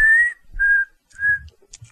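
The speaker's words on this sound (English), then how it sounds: "Can you whistle?" A person whistles three short, clear notes in a row, loud and close, with brief gaps and a faint shuffle between them, and no one speaks.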